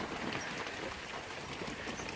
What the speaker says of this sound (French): Mais ça pleut toujours autant.